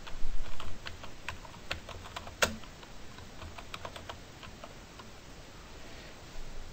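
Light keystrokes tap on a computer keyboard in scattered close clicks, with one sharper click midway, over a quiet background.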